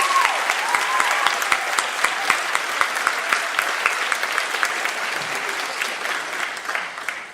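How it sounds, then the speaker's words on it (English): Sustained audience applause for the nursing faculty at an ADN nursing pinning ceremony, a dense steady roar of many clapping hands lasting several seconds with no talk. "you have to give a shout out and applause for the nursing faculty of this program"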